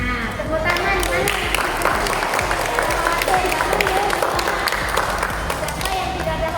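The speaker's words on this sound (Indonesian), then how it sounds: "Nah, tepuk tangan mana?" An audience at a financial-management training session gives brief applause, scattered claps mixed with crowd voices and talk.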